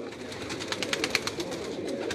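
Indian pigeons, a female of the Ustad Mulla line, coo in soft repeated pulses close by, over a steady background hiss, with no voices.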